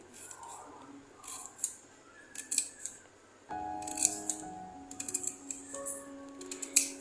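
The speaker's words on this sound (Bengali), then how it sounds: "এবার দেখো আর একটা পেঁয়াজ নিচ্ছি, এটা দিয়ে গ্রেভি তৈরি করব। এটা কিন্তু খুব সুন্দর করে কুচি কুচি করে কেটে নেব।" A knife chops onion finely on a board for kadai paneer gravy, giving a run of quick crisp cuts in uneven bursts, close up with no talking.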